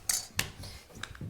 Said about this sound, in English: So you're going to spoon some jam in?